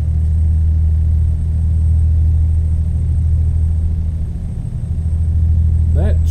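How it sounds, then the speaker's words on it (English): Kenworth W900A truck engine from American Truck Simulator, a steady loud low rumble droning throughout with slight swells, mixed under a voice speaking. "That truck is actually quite loud"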